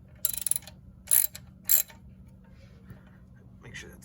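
A ratchet tightens a car's oil drain plug in three short bursts of quick clicking, close by, followed by quieter shuffling with a faint voice.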